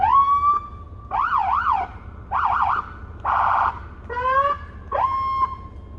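A Feniex Typhoon electronic emergency siren on a 2018 Ford F150 Lariat cycles through several tones in turn: a steady wail, fast warbling yelps, a harsh buzzing blast, and rising whoops.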